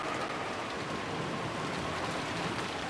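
Steady rain pours down throughout, a dense even hiss of falling drops with no pauses, as the ambient backdrop to a scene in the Umineko visual novel game.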